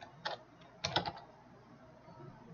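Brief typing on a computer keyboard, a few quick clusters of keystrokes close by, otherwise quiet.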